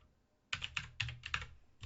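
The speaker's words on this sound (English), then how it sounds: "I just gotta type this in here and then we'll be ready to go." Quick bursts of keystrokes on a computer keyboard come after a short quiet start, about six close, clattering taps in an uneven rhythm with nobody speaking.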